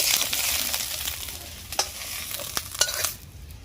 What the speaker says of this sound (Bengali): আমরা এরকম নেড়ে চেড়ে জলটাকে মেরে ভালো করে আমরা ভেজে নিব